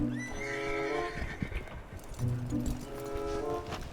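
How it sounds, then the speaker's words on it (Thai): A horse in a hunting game whinnies loudly and clip-clops, with a long harmonic neigh at the start, hoof thuds through the middle, and a second whinny near the end, close and clear. "เอ้านั่นไงม้าปะ"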